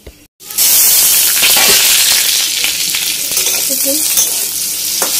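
Potatoes fry in hot oil with panch phoron spices, giving a loud, steady, close sizzle that starts after a brief silent moment and carries through with occasional stirring clinks.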